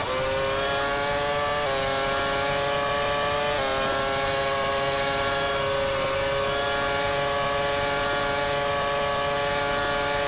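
Formula race car engines in the rFactor racing game, Formula PRO class at the Korea circuit, whining at high revs as several cars run close together, with pitch steps marking gear shifts throughout.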